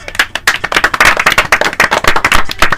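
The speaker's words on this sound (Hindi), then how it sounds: "सही जवाब भेजने वाले साथियों के लिए जोरदार तालियां।" Loud, brisk clapping from a group greets listeners who sent correct answers on a radio quiz programme, a dense run of quick hand claps heard alone without speech.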